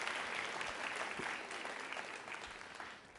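An audience at a college quiz show claps for about three seconds, a dense, steady burst of applause heard at moderate distance.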